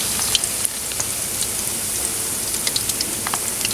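Rain falling outdoors while pakoras fry in oil, a continuous close patter and hiss with scattered sharp drips and pops throughout, no voices.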